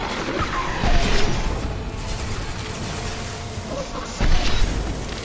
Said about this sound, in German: Husks, die explodieren.